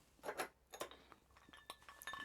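Ice cubes clink against a glass of overproof spiced rum in a few sharp, bright taps with short gaps, close and fairly quiet, with no voices.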